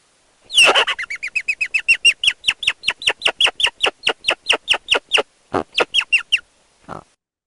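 Song of a male rock hyrax, a rapid series of about thirty sharp, squealing calls repeated in a steady rhythm, loud and close, with a brief pause near the end and one final lower call.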